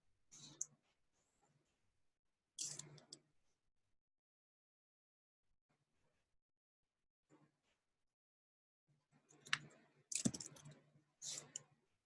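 Short bursts of clicking keystrokes on a computer keyboard during a coding session, a few quiet taps early on, then a denser run of typing near the end, close and soft with no talk.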